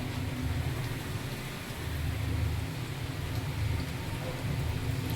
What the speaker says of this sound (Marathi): इतकं ऊन होतं, आता परत पाऊस चालू झालाय.